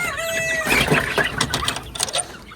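Chickens in a cage clucking and calling at close range in a short burst, with a few squawks and a brief crow-like note over a light background.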